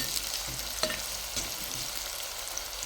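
Onions with salt frying for mutton curry: a continuous close sizzle with faint spatula scrapes against the pan every second or so, no one talking.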